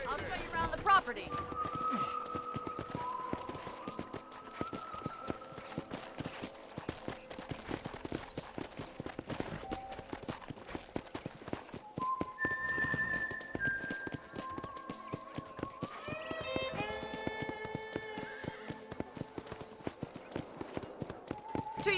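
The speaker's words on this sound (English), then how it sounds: "I picked out a fine horse for you. Giddy up!" Hooves clop in a fast, steady rhythm as a horse gallops in Red Dead Redemption, with the game soundtrack and occasional voices over the running beat.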